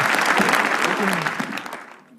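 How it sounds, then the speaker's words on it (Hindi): Studio audience applause for a guest on a comedy roast show, a loud burst of clapping that fades out over two seconds, with a voice briefly heard within it. "तालियां हमारे इस शानदार गेस्ट के लिए"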